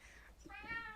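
A pet cat lets out a single drawn-out meow, close and clear over faint low background hum.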